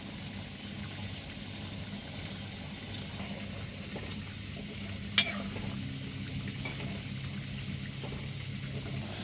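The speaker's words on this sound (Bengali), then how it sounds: "আমি প্রথমে আলুগুলোকে দিয়ে ভালো করে লাল করে ভেজে তুলে নেব" Potatoes frying in hot oil in a pan, a soft steady sizzle with low bubbling and an occasional faint clink, constant and moderately quiet throughout.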